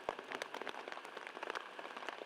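Rain pattering on an outdoor disc golf course, dense irregular drops tapping close by in a steady crackling wash with no talk.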